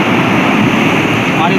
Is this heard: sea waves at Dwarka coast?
yes